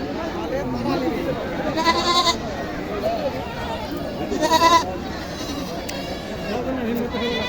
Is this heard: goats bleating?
yes